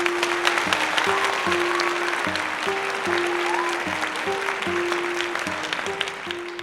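A storytelling crowd applauds at the close of a bard's tale, with sustained, even clapping over a simple stepping tune that plays throughout.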